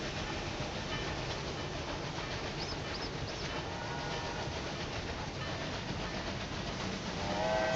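A passenger train running through a tunnel in the video game Railway Empire 2, heard as a dense, steady rolling rumble and hiss with a few faint higher whistle-like tones.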